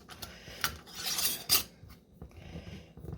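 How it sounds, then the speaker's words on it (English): A lid being placed on a glass jar of pickled cucumbers, with a few close, sharp clinks and scraping rubs of metal on glass over a quiet background. "I'm going to place the lid on here now, right?"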